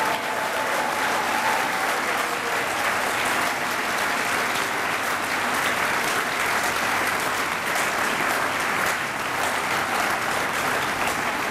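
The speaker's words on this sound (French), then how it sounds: "Est-ce que nous pouvons acclamer très fort le Seigneur?" Church congregation clapping loudly and continuously in praise of the Lord, a dense sustained applause filling the room with faint voices mixed in.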